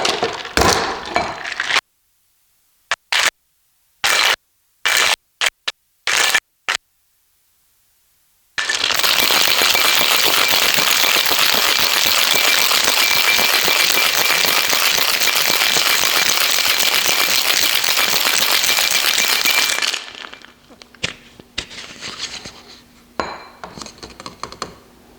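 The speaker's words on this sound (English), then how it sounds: "All right, so now we just shake over ice." Ice and glassware clink sparsely, then ice rattles hard inside a shaker for about twelve seconds while a Valencia cocktail with orange simple syrup is shaken. A few more clinks follow.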